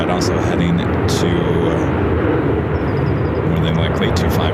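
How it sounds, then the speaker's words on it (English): A heavy corporate jet at Phoenix airport fills the air with a loud, continuous broadband roar that holds steady without letup, while voices talk over it. "Some heavy corporate jet also heading to"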